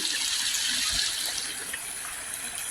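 Spring water welling up from underground runs through a hose, giving a steady, close hiss and splash that continues evenly with no talk.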